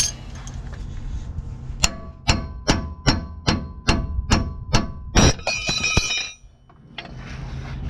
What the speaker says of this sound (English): we're going to hammer it a little bit,